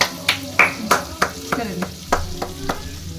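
Spoon scraping and stirring sauce and masala in a pan, a series of sharp, evenly spaced knocks and scrapes about every third of a second, with a light sizzle underneath and no one talking.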